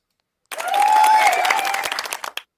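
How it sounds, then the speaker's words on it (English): Applause sound effect played back from a phone during a podcast, a dense burst of many clapping hands with faint cheering mixed in, rising fast, holding steady for about two seconds and then cutting off, heard alone without talk. "So this is the applause one."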